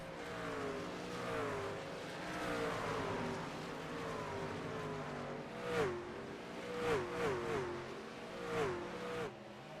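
A race car engine revs hard under throttle in an esports racing game at World Wide Technology Raceway, its pitch climbing and dropping through repeated shifts, with other cars buzzing close by.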